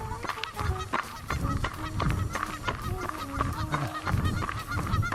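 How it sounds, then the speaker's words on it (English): A flock of geese honking close by in early spring, a busy overlapping chorus of loud, nasal calls repeating in quick succession, with no talking. "involved goose conversation right there for you"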